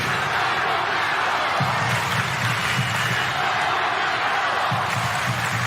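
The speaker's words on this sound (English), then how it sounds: "Crowd right into it now." Stadium crowd at an A-League football match between Central Coast and Perth Glory, a steady roar of many voices swelling with excitement, dense and continuous with commentary talk over it.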